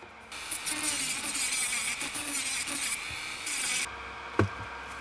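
A rotary tool fitted with a fine-grit sanding bit grinds across a UV resin coaster in a continuous high whine with small pitch shifts, running for nearly four seconds before stopping, followed by a light tap.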